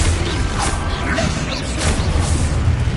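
Confringo blasting spell in Hogwarts Legacy going off with a loud, dense burst of crackling blast noise, a few rumbling booms and clattering debris packed into three seconds.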